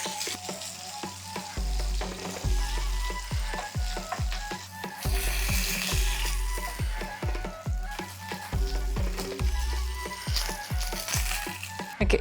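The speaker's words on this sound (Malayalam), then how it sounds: "ചെറുതായിട്ട് ഫ്രൈ ആയാൽ മതി." Fish fries in a pan of hot oil, a steady close sizzle with crackling and spattering, punctuated by the scrape and clatter of stirring and turning, with no voices.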